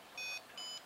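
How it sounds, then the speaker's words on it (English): A model rocket launch controller emits two short, evenly spaced high electronic beeps, fairly faint against a quiet room hiss. "it is definitely beeping"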